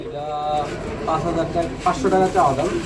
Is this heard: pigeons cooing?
yes